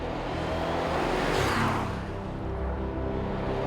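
Twin-turbo V8 of a 2024 Aston Martin Vantage, loud and close as the car passes or accelerates, with a broad engine roar swelling in the middle and then settling into a steady drone.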